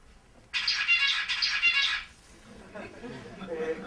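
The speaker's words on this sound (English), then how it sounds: "That's how normal zebrafinch song sounds like." A normal zebra finch song: a short burst of bright, buzzy, rapidly repeated chirping notes, fairly clear, followed by softer scratchy chatter.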